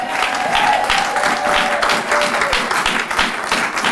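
A church congregation claps continuously and loudly, a dense wash of applause with faint voices mixed in.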